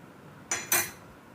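A large spoon scoops two spoonfuls of Bru instant coffee, giving two quick metallic clinks about a fifth of a second apart, close and fairly soft, with quiet around them.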